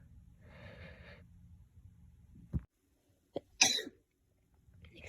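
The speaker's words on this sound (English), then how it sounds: "gonna sneeze." A single person sneezes at close range: a sharp breath in, then one loud, abrupt sneeze burst, followed by near silence.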